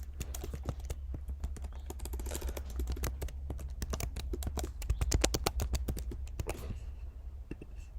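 Rapid run of light keyboard clicks as a password is typed into a Monday.com account deletion screen, close and crisp, pausing briefly near the end with no voice.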